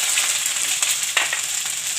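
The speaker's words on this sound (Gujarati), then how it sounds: "આપણે આ આદુ અને લસણની પેસ્ટ નાખી દઈશું." Ginger-garlic paste hits hot oil already holding mustard seeds, cumin and curry leaves in a tempering for a bajra rotla curry, giving a steady, close, bright sizzle with small crackling pops throughout.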